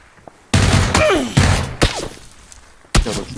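Shotgun blasts in the PUBG battle game, several loud close booming shots spaced irregularly, with brief voice sounds between them.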